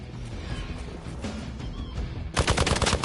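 Gunfire in Marvel's Midnight Suns: a rumbling, clattering battle bed, then a sudden loud burst of rapid shots near the end, close and sharp.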